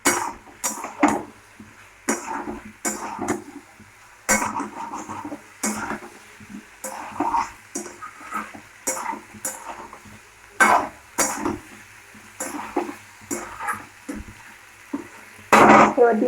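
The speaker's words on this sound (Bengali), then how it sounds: "মশলাটা আমাদের কষানো হয়ে গেছে, তেল ছেড়ে গেছে।" Cauliflower and spice masala fry in oil in a pan, with a soft, continuous sizzle broken by repeated close scrapes and knocks of a spatula stirring the mix at an uneven pace.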